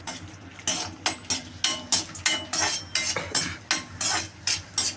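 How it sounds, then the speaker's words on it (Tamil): Cashews and raisins fry in ghee for rava kesari while a spoon stirs them in the pan, a close rhythmic series of scraping strokes over a faint sizzle, with no talk. "கொஞ்சோண்டு முந்திரி, கொஞ்சம் திராட்சை நல்லா நெய்யில் வறுத்துக்கலாம்."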